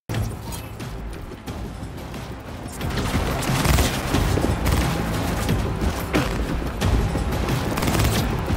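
Sustained gunfire in the video game Cyberpunk 2077 rattles in dense bursts, growing louder partway through and carrying on steadily amid mechanical clanks and booms.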